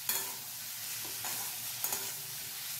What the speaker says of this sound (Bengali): নুন দেওয়ার পরে ভালো করে নাড়াচাড়া করছি, খুব ভালো করে এটাকে কষিয়ে নিচ্ছি।